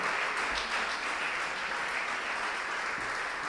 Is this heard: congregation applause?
yes